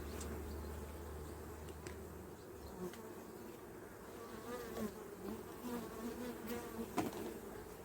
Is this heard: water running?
no